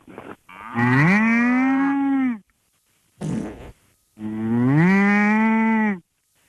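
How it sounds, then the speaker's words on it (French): Two long, loud cow moos with rich harmonic tone, separated by a short burst of rougher noise; no speech in between, each call swelling and holding for about two seconds. "C'est votre ami la vache?"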